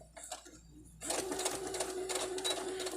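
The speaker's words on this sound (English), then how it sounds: "I'm going to make sure my sides are lined up, put my foot down, and then sew." A sewing machine stitches a fabric face mask. It starts after a few soft handling sounds and runs as a steady, fast mechanical whir with a light rhythmic chatter, close and fairly quiet.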